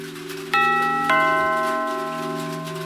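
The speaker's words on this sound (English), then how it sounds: "That night, someone rang his doorbell" Doorbell rings twice, two bright chime tones about half a second apart, each ringing on and slowly fading over a low steady background hum. No one speaks.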